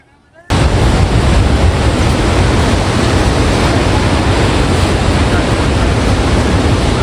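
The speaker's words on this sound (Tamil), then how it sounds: "தண்ணி அங்கே பாருங்கள் அப்படியே அடித்து ஆவி ஆகிட்டு இருக்கு." Shivanasamudra waterfalls crashing into spray, a loud, dense, unbroken roar that bursts in after a quiet half-second and holds steady, close to the microphone.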